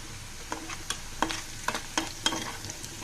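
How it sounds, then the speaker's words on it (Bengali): Bitter gourd frying in a pan until browned, with soft sizzling and repeated scrape-like stirring strokes spaced through a few seconds, fairly quiet and close, with no talking. "ভালো করে আমি ভেজে নেব ব্রাউন কালার হওয়া পর্যন্ত অপেক্ষা করতে হবে"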